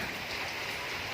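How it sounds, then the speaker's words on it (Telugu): A short burst of steady rain noise, a bright continuous hiss with no voices, during a windy rainstorm in Hyderabad. "బాగుంది వర్షం అయితే కానీ"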